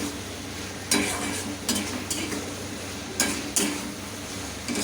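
Masala being fried and stirred in a pan for a Bengali fish curry with potato and eggplant, a steady sizzle broken by several sharp scraping stirs and clinks of the spoon, close and fairly quiet.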